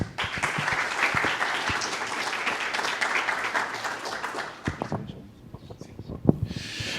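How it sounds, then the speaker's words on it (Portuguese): A seated audience at a community discussion event on faith and politics applauds steadily for several seconds, the dense clapping then thinning to a few scattered claps and fading out near the end. "Vamos acolhê-lo com uma salva de palmas."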